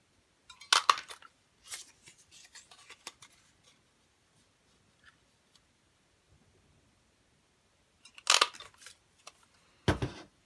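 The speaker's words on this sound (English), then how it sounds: "I'm just going to cut a little piece of red and fishtail it on each side" Scissors snipping a small piece of red paper, with a few short clusters of crisp cuts and rustles separated by quiet stretches, close and fairly soft.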